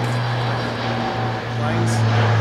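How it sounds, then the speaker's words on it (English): A low, steady engine drone of an airplane overhead, broad and continuous, swelling slightly toward the end with no talk. "Planes."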